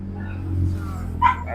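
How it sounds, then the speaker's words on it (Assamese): A crossbreed dog, a Lhasa Apso and Shih Tzu mix, gives a single short bark close by near the end, over a steady low background hum. "দাদা, এইটো মানে কি প্ৰজাতিৰ ডগ হয়?"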